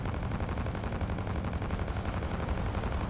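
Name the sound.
Missiles firing from a ship in the video game Fractured Space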